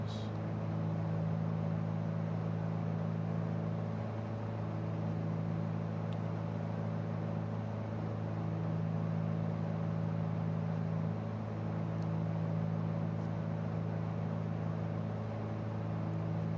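Piston aircraft engine in Microsoft Flight Simulator 2020, throttled back to 21 inches of manifold pressure on a VFR flight from Parafield to Renmark, Australia; a loud, steady droning hum that holds unbroken throughout.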